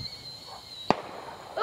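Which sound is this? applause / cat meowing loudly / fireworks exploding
fireworks exploding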